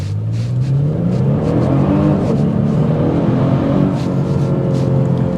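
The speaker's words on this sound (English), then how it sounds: "now we're going to really see that performance on a 0 to 60." A 2024 Genesis G70 3.3T Sport Prestige sedan accelerates hard from 0 to 60, its engine note rising steadily through the gears, loud and close with a continuous roar and no talking.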